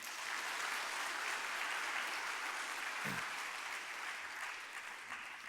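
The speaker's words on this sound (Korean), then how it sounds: "박수 한 번 더 해주십시오" A church congregation at Sunday worship claps in a soft, distant, even wash of applause that stays steady and then eases slightly toward the end.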